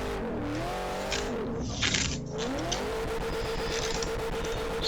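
A video-game Nissan R32 fitted with a roughly 600-horsepower supercharged LS3 holds a drift, engine droning and shifting pitch while tires squeal in a burst near the middle, loud and continuous.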